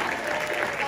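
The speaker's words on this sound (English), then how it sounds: "Give a little bit of applause for that." Audience applause at a Lolita fashion show at Anime Expo, a brief dense burst of clapping from a crowd filling the whole moment.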